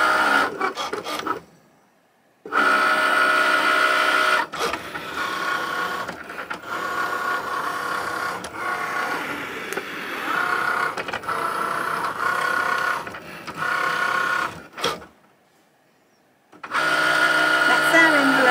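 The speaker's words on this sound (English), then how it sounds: "we can just press that and it's going to now cut the envelope" Cricut cutting machine cutting an envelope, a close mechanical whirring and rasping with the carriage moving in bursts, separated by a couple of short silent pauses.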